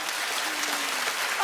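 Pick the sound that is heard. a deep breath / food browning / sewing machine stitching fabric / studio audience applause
studio audience applause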